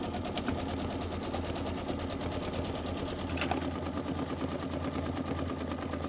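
A sewing machine stitches a quilted bench pillow in a fast, even rapid-fire rhythm close by, running continuously with a slight change in pace midway and no talking.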